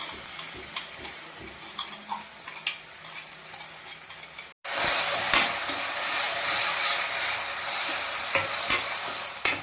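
A paste of ginger, garlic and cumin hits a hot pan and sizzles loudly. Softer stirring clatter comes first, then a sharp, continuous hiss breaks out and holds steady, close up, with no talk.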